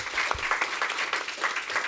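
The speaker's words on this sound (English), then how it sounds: "Thank you for your applause." An audience at an innovation conference applauds a panel, a sustained patter of many hands clapping at moderate volume, steady and even with no voices over it.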